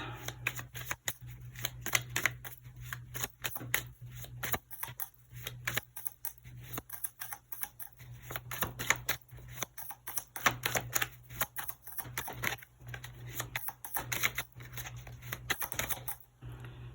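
Tarot cards riffled and shuffled by hand, a long run of quick, soft papery flicks and taps at close range under a low steady hum, with no speech.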